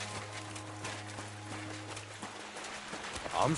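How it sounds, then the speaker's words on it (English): Horse hooves clop at an unhurried walking pace in the video game Kingdom Come: Deliverance II, over a low background hum, fairly faint, with a brief louder sound near the end. "My, what a beautiful horse."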